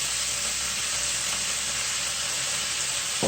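Soy sauce sizzles hard in a hot pan with half-cooked beef for jajangmyeon, a steady, loud, broadband frying hiss that runs unbroken from start to finish and gets a brief clatter at the very end.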